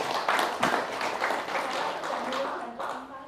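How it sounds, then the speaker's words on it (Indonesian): An audience claps together in a steady, moderately dense round of applause that carries evenly for a few seconds, heard from slightly away with some room sound. "tepuk tangan ya."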